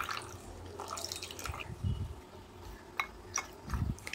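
Water poured and stirred into a cornflour batter seasoned with salt and pepper, made for dipping cheese potato nuggets: scattered close drips and soft splashy stirring in short bursts, with no one speaking.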